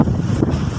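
Strong wind roars across the microphone at a collapsed seaport trestle at Kijing, with a loud steady low rumble of gusts and surf and no voices.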